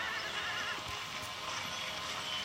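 Horses neigh and whinny amid clip-clop hoofbeats as cavalry troops dismount in the video game Empire: Total War, a steady busy battlefield bed without talking.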